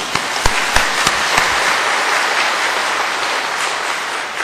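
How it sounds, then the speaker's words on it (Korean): Applause from a church congregation celebrating a won lawsuit: dense, steady clapping filling the room, with a few sharper individual claps standing out near the start. "하나님 앞에 영광의 박수"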